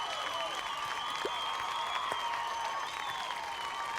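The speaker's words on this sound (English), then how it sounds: "Everyone clap for them." Applause and crowd cheering at a concert in the video game Tiny Bookshop, a steady wash of game-generated clapping with music tones running beneath it, even and sustained throughout.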